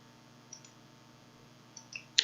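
Several sharp mouse clicks on a computer, a single click then a few more close together near the end, crisp and near in a quiet room.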